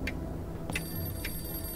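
A telephone rings faintly in a horror video game, three short electronic trills spaced about half a second apart over a steady, muddy low background drone.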